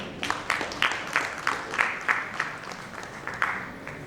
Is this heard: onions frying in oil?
no